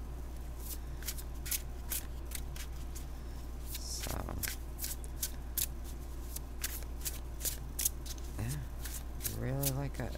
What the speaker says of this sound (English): Yeah, it shuffles beautifully.